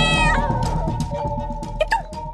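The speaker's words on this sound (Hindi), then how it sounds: "ये तो बिल्ली है।" Cat meowing in a Hindi television drama scene, several short mewing calls rising and falling close by over low background music, with a sharper cry near the end.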